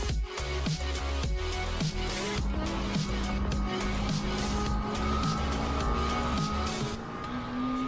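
A McLaren W1 hypercar with 1258 hp roars close by, its engine revving hard through repeated rising pulls and shifts, a loud sustained mechanical howl with sharp throttle blips.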